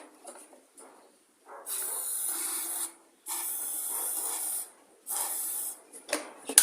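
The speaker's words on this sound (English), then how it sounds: "Take a bit of carb cleaner and we'll put that down on top of the air filter box here." Carb cleaner sprays onto a lawn mower's air filter box in three loud, close hissing bursts of about a second each, separated by short pauses, with faint handling noises between them.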